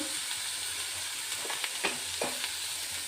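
Pieces of bottle gourd simmer with turmeric in a pot, giving a steady soft sizzle and hiss. A few faint clinks of stirring sound over it, and no one speaks.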